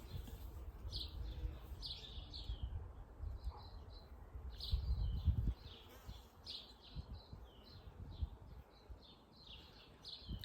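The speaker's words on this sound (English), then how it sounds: "Lots of birds today." Many birds chirp and tweet outdoors in short repeated bursts, moderately distant, over a low rumbling background of wind or handling noise, with no talk.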